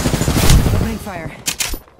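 Rapid bursts of machine gun fire in the video game Apex Legends, loud and close, mixed with a voice and game effects over a couple of seconds.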